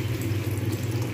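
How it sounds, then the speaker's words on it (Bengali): Water is poured into a cooking pot while making a potato and green pea curry, a short, steady, close-up gush with an even rushing tone. "জল দিয়ে দেবো।"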